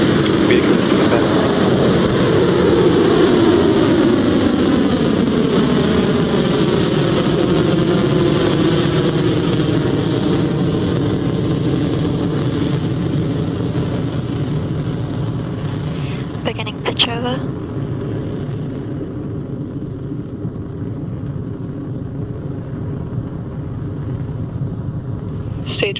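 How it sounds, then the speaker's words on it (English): A Rocket Lab Electron rocket lifting off from Launch Complex 1, its nine Rutherford engines producing a loud, sustained broadband roar that slowly shifts and fades, with a commentator's voice running over it throughout. "There goes our 76th launch with a nice clean liftoff from Launch Complex 1"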